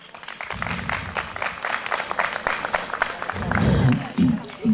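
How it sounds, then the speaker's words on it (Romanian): A festival audience applauds a group of tradition keepers in an outdoor gathering, steady clapping running throughout with a swell near the end, mixed with crowd noise and voices. "vă rog toată lumea să-i aplaudăm pe acești oameni"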